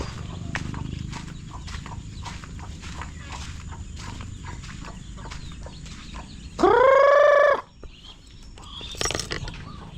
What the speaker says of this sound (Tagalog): Nasaan na yung mga manok?